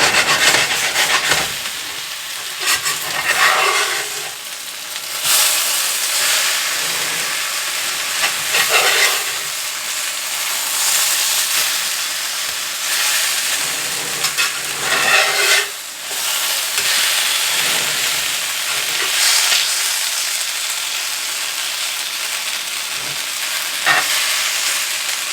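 Cajun smothered potatoes frying in an uncovered pan, a loud continuous sizzle broken every few seconds by scraping, rubbing stir strokes, with no voices.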